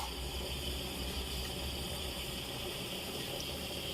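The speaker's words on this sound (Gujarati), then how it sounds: "આપણે એમાં થોડું પાણી એડ કરી નાખશું." Water pours into a pan of cooking vegetables, a low, steady rush running continuously, fairly faint, with no distinct splashes or voices.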